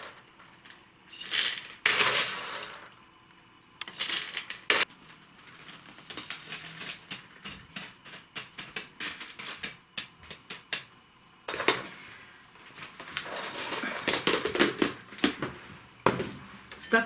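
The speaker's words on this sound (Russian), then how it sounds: "И продолжаю засыпать керамзит." Expanded clay pebbles are poured and scooped into an orchid pot, giving scattered rattling clinks and pebbly crunches in irregular bursts. Quieter pauses fall between the pours.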